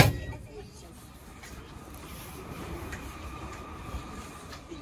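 A commuter train in Sweden pulls away on an electrical-fault-delayed run toward Uppsala, a steady low rumble of rolling stock with faint rail clatter, while a person talks over it.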